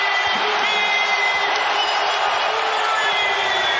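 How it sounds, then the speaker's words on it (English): Roaring crowd noise from fans at a Boston Celtics NBA Finals basketball game, a dense, constant wall of cheering and whooping that stays loud and unbroken throughout. "how loud the crowd was in last night's game"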